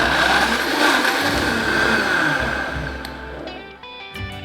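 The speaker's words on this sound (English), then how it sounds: "now we're going to blend it on high for 1 minute" A countertop blender runs on high, pureeing apples with their skins into apple sauce: a loud, steady motor whir that holds for several seconds, then dips briefly and restarts near the end.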